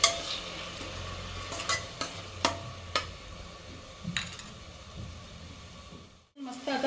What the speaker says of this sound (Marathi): आता ह्यामध्ये टोमॅटोची पेस्ट घालते आणि मस्त तेल सुटेपर्यंत आपल्याला परतून घ्यायची आहे